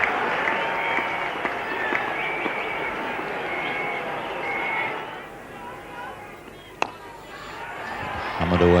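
Cricket crowd at Lord's during a 1973 West Indies versus England Test, with steady applause and cheering from a large, distant crowd throughout, a sharp crack near the end and a commentator talking over it.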